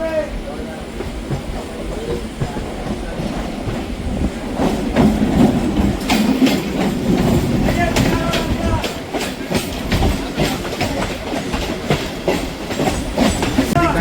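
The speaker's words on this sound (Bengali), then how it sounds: "কতটা ঘেসে আসছে ট্রেনটা মনে হচ্ছে" Kolkata local train running close alongside on a Sealdah south section line, loud rumbling wagons with rhythmic clickety-clack of wheels over rail joints building and continuing throughout, with people talking beneath.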